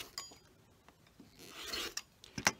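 Quilting fabric trimmed with a ruler and rotary cutter: soft scraping and rubbing against the cutting surface, a few faint taps, then a sharper rasp and a couple of close clicks near the end, with no talking.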